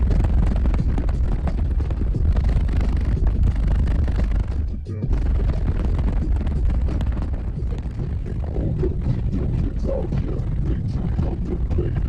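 Strong wind buffets the microphone in heavy, continuous low rumbling gusts, with a brief lull partway through before the roaring resumes.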